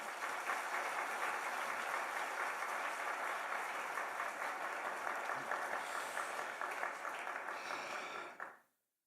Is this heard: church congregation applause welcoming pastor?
yes